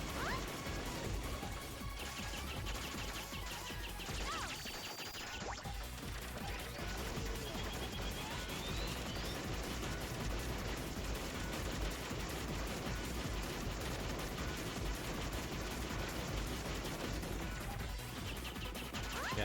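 Dense gunfire, missile launches and explosions from the arcade shoot-'em-up Ibara Sorekara, a constant loud barrage of shots and crashes layered over game music, with no talking.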